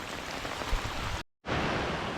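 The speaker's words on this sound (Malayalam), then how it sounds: "ഇന്നിവിടെ ഈ മഴ തോരുമെന്ന് തോന്നുന്നില്ല നല്ല മഴ പെയ്തുകൊണ്ടിരിക്കുകയാണ്" Heavy rain roars steadily over forest at Kakkadampoyil with a dense, constant hiss, briefly cut to silence for a moment before the downpour resumes just as strongly.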